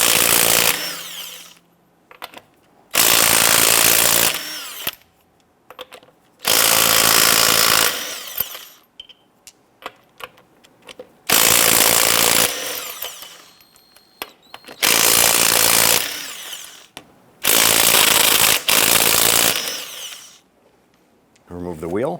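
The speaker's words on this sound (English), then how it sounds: "Using a 22mm socket, loosen and remove the lug nuts." A power tool fitted with a 22mm socket spins lug nuts off a 2015-2020 Cadillac Escalade front wheel in loud bursts of several seconds each, with quiet gaps and small clinks between them.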